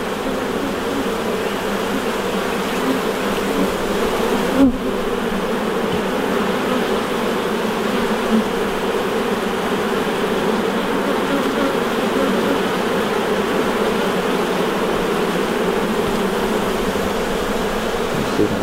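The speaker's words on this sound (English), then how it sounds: "There are a lot of bees in that one." A dense, steady drone of many honey bees buzzing close by during a hive frame inspection, continuous and unbroken throughout, with a brief knock partway in.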